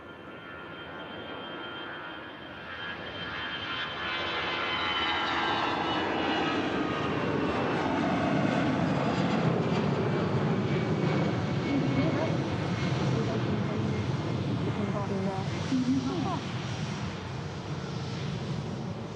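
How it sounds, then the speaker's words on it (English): An EasyJet passenger jet, operated by ITA, on approach to touchdown at Manchester Airport: a continuous engine roar builds over several seconds and holds loud, with a voice talking over it. "ITA flying on behalf of EasyJets is number 2 to touchdown, just getting itself established now."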